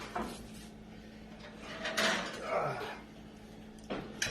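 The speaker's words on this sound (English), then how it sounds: "so we're going to take them out of the oven" A baking tray of pizza fries comes out of a home kitchen oven with a few soft metallic clanks and scrapes, faint against a quiet room.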